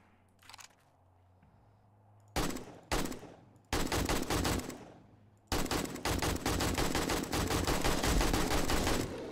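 Rapid gunfire in the 7 Days to Die video game as a bear is shot, bursts of loud automatic shots starting after a short quiet, growing into long sustained strings of fire.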